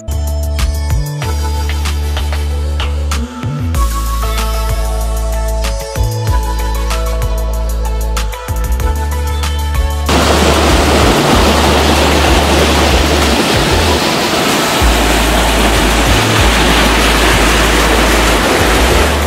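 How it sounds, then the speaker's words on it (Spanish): El Ponguito waterfall near Lamas, Tarapoto, with three small drops of water up to six metres pouring over rocks, gives a loud, continuous broadband rush; the first half is overlaid by music with a steady beat, then the water roar continues alone. "En la cascada El Ponguito se reconocen tres precipitaciones de agua de no más de 6 metros de altura"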